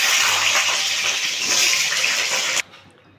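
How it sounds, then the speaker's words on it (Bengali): Potatoes dropped into hot oil for a mutton curry give a loud, steady, close sizzle that cuts off abruptly near the end, leaving faint quiet. "এবার আমি আলুগুলোকে তেলে দিয়ে দেবো।"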